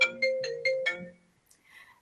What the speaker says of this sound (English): I forgot to mute my own phone by the sound of it